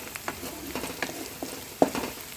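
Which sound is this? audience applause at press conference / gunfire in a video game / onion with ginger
onion with ginger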